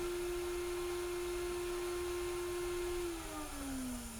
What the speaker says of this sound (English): And vacuum it, and this record is cleaned and ready to go.